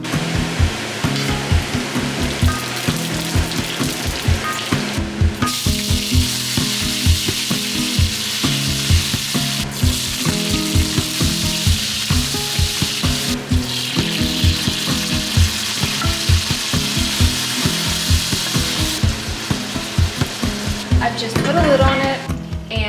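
Oil frying in a pan on the stove, a loud, steady sizzle that lasts throughout with occasional stirring clatter and brief faint voice.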